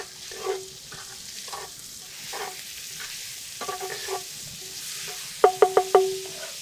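Chopped onions sweating in a pot for a smoked Jamaican oxtail stew, a soft low sizzle with scattered stirring scrapes, ending in a quick run of four sharp metallic clinks. No one speaks.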